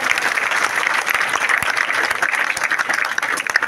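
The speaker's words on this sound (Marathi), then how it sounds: "त्या व्यक्तीसाठी मनापासून एकदा जोरदार टाळ्या." An audience breaks into loud, sustained applause, a dense close wash of clapping hands lasting several seconds.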